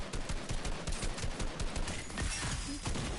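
Rapid bursts of gunfire in the Fortnite video game, dense automatic fusillades with sharp repeated cracks, loud and close, running continuously with no speech.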